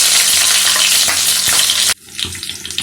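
Nigella seeds and slit green chillies frying in hot mustard oil, a loud steady sizzle that cuts off abruptly near the end, followed by quieter crackling.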